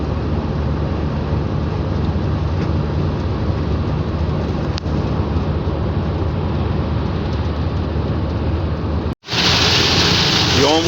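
Rain and wind buffeting a car driving along a road, a steady broadband wash of noise that holds loud and even, then cuts out briefly near the end before returning brighter.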